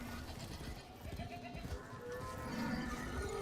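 Sheep bleating in a video game's Sheep Herder mode, a wavering animal call against a dense, continuous game soundscape, fairly close and mid-level throughout.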